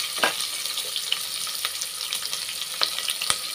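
A large onion sliced lengthwise sizzles steadily in hot oil with mustard seeds and lentils while cooking Nagore-style kattu soru, with a constant frying hiss broken by occasional sharp pops and spatters.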